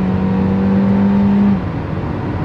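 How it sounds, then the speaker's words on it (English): Kia Carens with a 1.4-litre turbo petrol engine and DCT gearbox accelerating hard after a kickdown, a loud steady engine drone and whine heard from inside the cabin, easing slightly near the end. "as soon as I kick the pedal, instantly downshifts"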